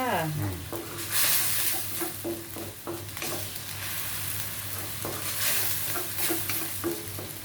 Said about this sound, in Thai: ยวนหมูให้สุกนะคะ